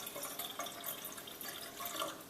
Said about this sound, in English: Now, we're going to fill up the coffee craft here for 6 cups. We're just going to fill it up to the line.